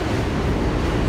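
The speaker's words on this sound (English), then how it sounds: "There's another Q train around the terminal." A New York subway Q train at the Coney Island terminal station on a rainy day, heard as a steady, loud, broadband rumbling roar that carries on without a break.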